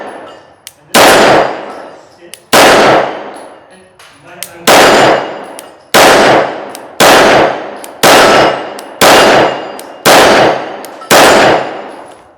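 Rounds from a PSA Dagger Compact pistol with a compensator ringing off steel targets at an outdoor range, ten sharp loud shots, each a crack with a bright metallic clang and quick decay, spaced about a second apart.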